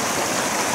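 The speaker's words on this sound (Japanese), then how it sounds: "狭い、小さい川の割にね、水量が多いんです。" A narrow mountain tributary of the upper Sorachi River in Hokkaido runs with a strong flow, a close, dense and steady rush of water that never breaks.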